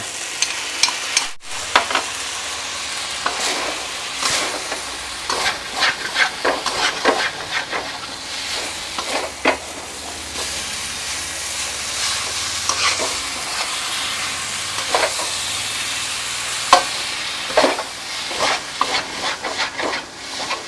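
Noodles with cha-om and fresh shrimp are stir-fried in a hot pan after sauce goes in, giving a steady wet sizzle broken by repeated scraping stirs, close up with no talking.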